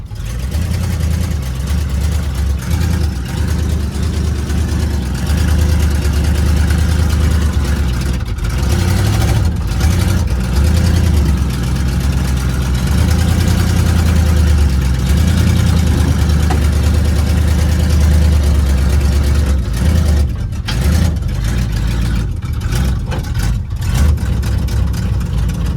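An old, previously crashed race car engine runs steadily and loud, a rough low rumble that rises and falls with throttle after being put into drive, with no talk over it.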